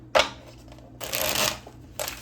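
Tarot cards being shuffled by hand in short riffling bursts, one brief snap followed by a longer rustling shuffle and another burst at the end, close and clear.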